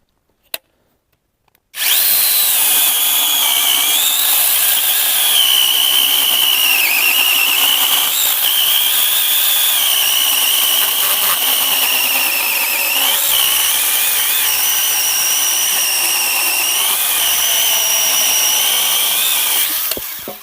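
A Grosser GCS 860S cordless chainsaw cuts through red oak, starting abruptly and then holding a loud, continuous high-pitched whine close by for the rest of the stretch.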